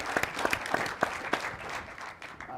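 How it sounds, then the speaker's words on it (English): An audience at a Liberal Party biennial convention applauds in a brief, moderately loud burst of clapping that starts strong and tapers off within a few seconds. "I told them to applaud."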